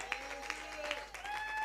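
A church congregation applauding and cheering for Jesus, steady clapping with whoops and shouted cheers from the crowd, sustained throughout.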